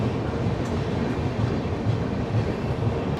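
The Howrah Balurghat Express enters New Farakka Junction with a steady, close rumble of rolling train wheels and faint rhythmic clatter. Nobody speaks.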